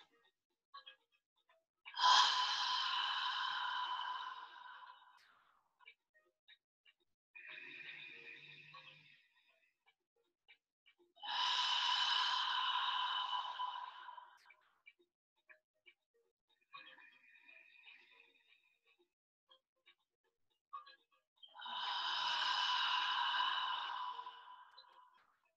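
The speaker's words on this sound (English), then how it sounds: "We're going to take a few breaths in through the nose" Slow yoga breathing, in through the nose and out through the mouth, with three long breathy exhales separated by quieter inhales and pauses, close and alone with no talk.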